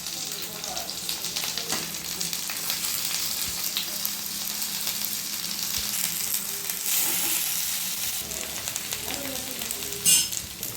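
Banana flower pieces fry in a pan, giving a steady, dense sizzle that runs unbroken throughout at close range, with a short louder burst near the end.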